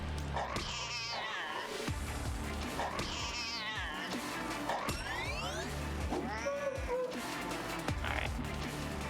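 A cartoonish cat in The Good Life video game meows and caterwauls repeatedly, loud and close, mixed with bouncy boing-like game effects.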